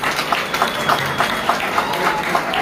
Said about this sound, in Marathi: म्हणून आपण सर्वांनी प्रशांत श्रीपतराव माने यांच्यासाठी एकदा टाळ्या वाजवू.